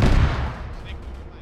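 A loud burst of gunfire in the military shooter Arma, played by the ShackTac group. The shots crack close and quickly decay into a rolling echo, with a voice speaking briefly over the tail.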